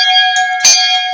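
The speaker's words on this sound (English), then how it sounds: "we're delighted to ring the bell to officially launch the International Sustainable Finance" A bell rung at the official launch of a sustainable finance centre gives a loud, clear sustained tone, struck once more partway through, with no talk over it.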